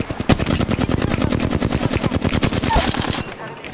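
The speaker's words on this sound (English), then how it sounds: "He's there shooting me." Rapid automatic gunfire in the video game Apex Legends, a loud, steady stream of shots for several seconds that stops abruptly near the end.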